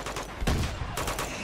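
Gunfire from the video game Uncharted 2: Among Thieves, heard as a short volley of loud, overlapping shots with two dense bursts and no talking.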